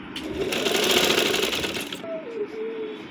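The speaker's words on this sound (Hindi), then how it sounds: "इसकी सिलाई यहाँ से स्टार्ट करके इसको दूसरे कोने तक लेते हैं" A sewing machine runs steadily for about two seconds, stitching the waistband of a sharara, then stops, leaving a quiet room with a faint voice-like tone.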